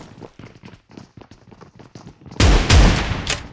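Shotgun fire in a video game: after a stretch of quiet talking, loud booming blasts erupt close by, two or three heavy shots in quick succession with a ringing tail.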